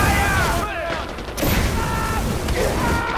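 Gunfire in the video game Far Cry 4, with bursts of shots and booming blasts layered over game sound and speech, dense and loud throughout.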